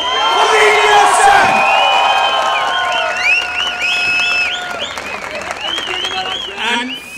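Concert audience applauding and cheering for a band, a loud sustained wash of clapping with whoops and shouts throughout, plus some voices in the crowd.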